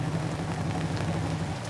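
Steady rain patters densely and evenly, a continuous close wash of drops with no voices.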